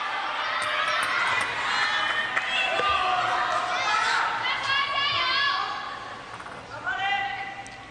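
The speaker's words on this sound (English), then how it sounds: "You can hear the crowd and the tension starting to build" Table tennis fans of Sun Yingsha's fan club cheer and shout at a women's singles match in Yokohama, a loud crowd roar with high voices rising and falling steadily.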